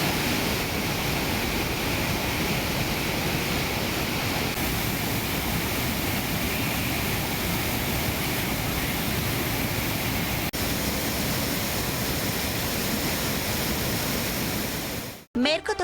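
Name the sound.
waterfall in heavy flow after rain, Thirparappu falls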